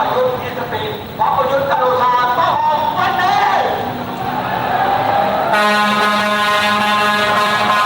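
A truck's air horn blares in a long, loud blast over a busy background of crowd and traffic noise at a street protest rally.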